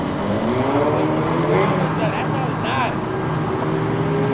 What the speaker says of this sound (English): You want me like rev it all the way up